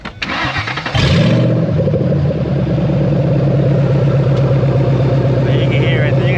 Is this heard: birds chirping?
no